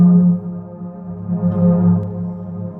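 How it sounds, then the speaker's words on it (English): A second pad layer swells in on a Seaboard RISE 2 playing an Equator 2 patch as the finger slides up, a loud sustained synth chord with a strong low tone and shimmering upper harmonics, steady throughout with no voices. "it brings in the second layer, which is a pad"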